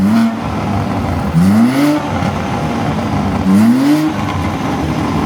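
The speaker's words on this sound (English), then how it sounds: "We'll do some revs first with the valves shut and then the valves open" A BMW G82 M4 with its exhaust valves shut revs repeatedly: an idle is interrupted by two rising revs, each climbing quickly then dropping back, loud and close.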